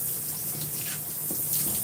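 A hair grabber rinsed under a running tap, a steady, soft stream of water splashing into a sink, fairly quiet and continuous with no talking.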